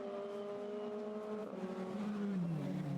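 Formula Renault 2.0 race cars at Hockenheim in 2015 drone steadily at mid distance, a sustained engine tone that holds level and then sweeps downward as the cars pass and brake.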